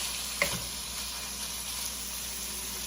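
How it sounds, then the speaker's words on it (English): Ground beef browning in a pan with a steady, close sizzle and a brief sharper crackle near the start, with no talking. "So we've got our ground beef browning here."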